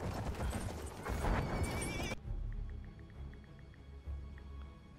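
In a video game, horse hooves clip-clop at a gallop while a horse neighs loudly, then the hoofbeats continue more softly with faint tinkling tones in the background.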